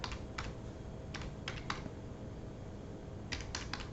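Keys clatter on a computer keyboard as someone types a website address, several quick bursts of keystrokes with short pauses between them, close and fairly faint over a low steady background hum.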